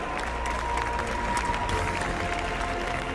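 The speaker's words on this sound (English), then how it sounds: "A round of applause for these guys." Crowd applause at the FIFA 18 eWorld Cup Grand Final esports event, a continuous roar of clapping and cheering from a large arena audience, steady and full for the whole stretch.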